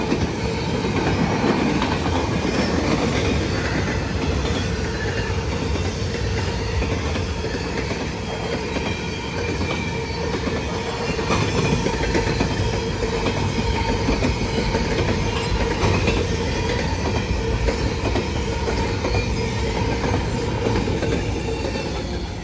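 A Norfolk Southern coal train rolls past in Ironton, a loud, steady rumble of wagons with rhythmic clickety-clack from the wheels and a faint squeal of steel, continuous and close.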